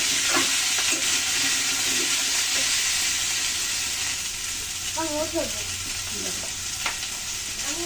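Vegetables coated with a little turmeric fry in hot oil in a home kitchen, producing a loud, continuous sizzle and crackle with occasional stirring scrapes, no voices.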